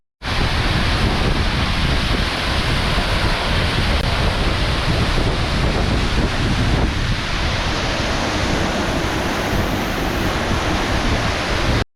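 Strong wind roars steadily near a hidden waterfall outside Pokhara, Nepal, a loud, unbroken broadband rush mixed with falling water that fills the whole stretch with no talking.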